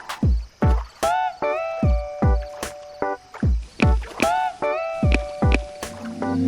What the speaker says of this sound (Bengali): ওই তো একটা নৌকা আসছে